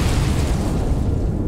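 A loud, deep explosion booms with a dense low rumble that persists without fading across its short length.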